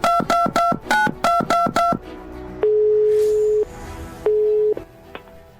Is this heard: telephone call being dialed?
yes